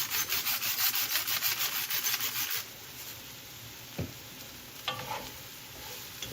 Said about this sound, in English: I'm gonna let my mushrooms cook.